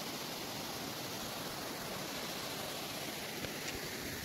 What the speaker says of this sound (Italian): c'è la discesa per la cascata, praticamente la parte iniziale della cascata della Cueva dello Las Palomas